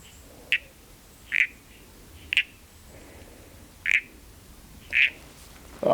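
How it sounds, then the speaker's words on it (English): A frog near a mine dam wall gives six short, sharp croaking calls, evenly spaced about a second apart, clear and fairly close against quiet outdoor background. "Can you hear that frog?"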